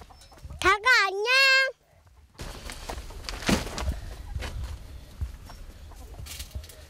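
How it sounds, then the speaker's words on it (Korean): Chickens in a coop on a farm, with loud rising squawking calls up front followed by shuffling and scattered clucks in the coop; a voice speaks over the later part. "닭아 안녕."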